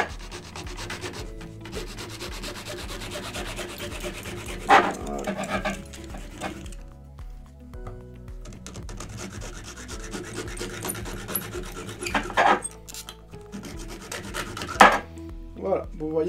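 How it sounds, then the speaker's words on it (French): Rasping back-and-forth strokes of a small hand saw cutting a rigid watercooling tube, rhythmic and close, with a few sharper bursts and short pauses between strokes. "donc avec la petite scie"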